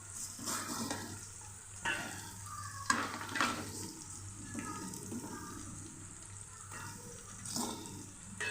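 Fried chicken pieces stirred into sizzling tomatoes and oil in a pan, a close steady frying hiss with repeated scraping stirs and clatters at a moderate level, no talk.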